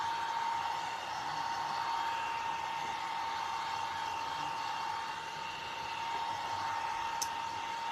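A hair dryer blowing steadily on wet paint on a rustic farmhouse church craft, a constant close whirring hum with an even pitch throughout.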